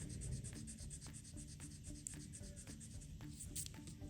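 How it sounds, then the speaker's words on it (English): Steady rubbing strokes of an eraser scrubbing colored pencil on paper, a close, repeated back-and-forth scratch that keeps an even rhythm throughout. "if I try to erase that colored pencil"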